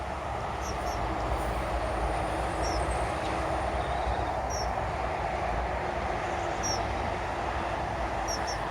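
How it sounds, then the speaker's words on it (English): A train rumbles by at a distance, a steady low drone with faint periodic wheel clicks and occasional high squeals, no voices. "And I was waiting for a train to come along."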